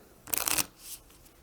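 A quick riffle of playing cards for the board game Sojourn, a short burst of fluttering snaps lasting about a third of a second, followed by a softer card slide.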